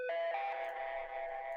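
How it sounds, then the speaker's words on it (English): A heavily distorted plucked piano synth from an FL Studio trip-hop beat rings out as a single sustained, buzzy tone, fairly quiet and alone, holding steady for over a second. "It's just a very distorted plucked piano sound that I used."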